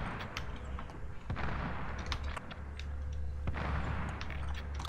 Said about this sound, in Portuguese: Quem atirou?